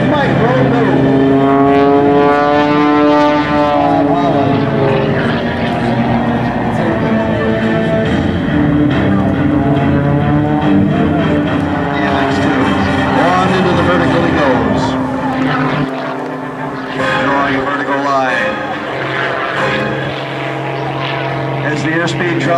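An MX-2 aerobatic propeller plane performs at the Great New England Airshow, its engine a loud, continuous droning roar that shifts in pitch as it climbs, slows nearly to a stall and rolls, heard close and unbroken throughout.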